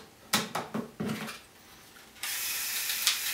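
A LEGO Technic bucket wheel excavator's rotor and bucket conveyor mechanism gives a few sharp plastic ratcheting clicks, then a steady close whirring of motor and gears that runs on alone.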